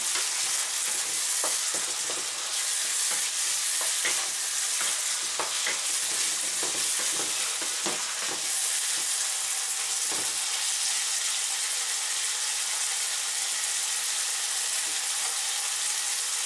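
Chinese beans and ground pork stir-frying in a hot wok, a loud continuous hiss of sizzling oil with clattering spatula tosses and scrapes scattered through the first half, close up.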